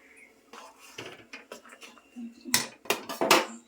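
A cooking pot lifted off a home stove, a string of sharp metallic clanks and scrapes that build to louder knocks toward the end, close by with no talking.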